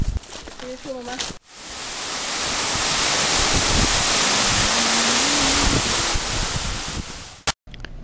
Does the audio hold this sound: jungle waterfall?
yes